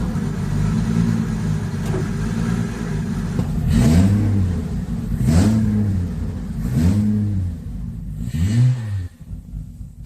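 A Subaru drift car's engine, newly brought back to running order, idles steadily and then revs hard four times in rising-and-falling blips, loud and close with no talking.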